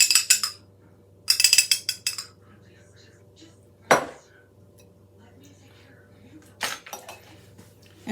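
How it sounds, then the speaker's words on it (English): Buttermilk ranch dressing is mixed in a bowl, with a utensil clinking and scraping against the bowl in scattered bursts, some rapid rattling runs and a few single sharp taps, set against a low steady background hum. "And now we mix her up."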